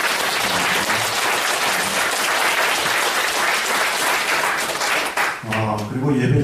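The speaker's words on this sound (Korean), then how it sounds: "혜성을 위해서 한 박수 부탁합니다." A church congregation applauds during a worship service, a dense, steady round of clapping that fills the room for several seconds before fading as voices come in at the end.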